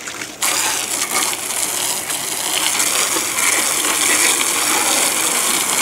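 Strong water spray blasts mud off an ATV after a wash cleaner is applied, a steady loud gushing hiss that starts abruptly and runs continuously, close up with no talking.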